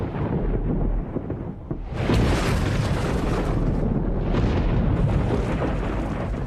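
Thunder in a prehistoric tropical rainforest rolls deep and heavy, a low rumble that bursts into a louder, broad crack about two seconds in and keeps booming steadily to the end.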